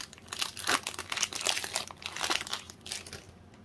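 Crinkly foil wrapper of a Pokemon TCG Evolving Skies booster pack is torn open by hand, a close series of sharp crackling rips and crumples with no talk.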